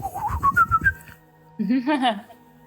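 During a tabletop role-playing game, a person whistles a wavering, rising tune as a voice imitation of a whistling tree, then follows it with a short warbling, hooting vocal sound.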